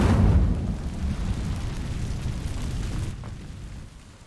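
A roaring burst of flame from the Incendio fire spell setting dry vines alight in the Hogwarts Legacy video game, loud at the start and then a steady crackling rumble that cuts off sharply near the end.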